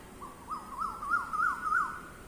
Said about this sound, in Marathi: अनेक आवाज चिमण्यांचे